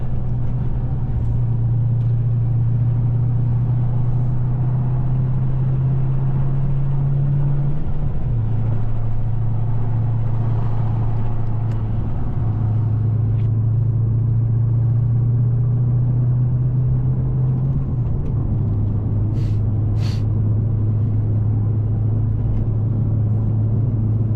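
An Australian-made HSV VF GTS cruises along a freshly resurfaced road, its engine a steady low drone with tyre roar throughout and brief dips in pitch as it shifts gears.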